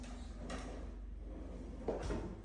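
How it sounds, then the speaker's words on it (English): A soft-close drawer in a newly built home slides shut, a quiet muffled bump near the start and another faint soft thud near the end over low room hum. "Soft closed drawers."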